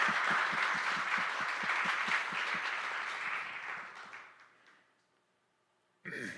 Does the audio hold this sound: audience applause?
yes